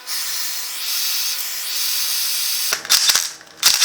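A thread chaser grinds steadily through a bolt hole in an LQ4 engine block during teardown, a close continuous scraping rasp that breaks into a few sharp metallic clicks and scuffs near the end, no voices.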